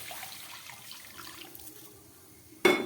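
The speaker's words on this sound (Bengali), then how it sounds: "এবার দিয়ে দিচ্ছি এর মধ্যে উষ্ণ গরম জল" Warm water pours into washed mung dal, a soft, faint running trickle that fades toward the end before a short louder splash and clatter.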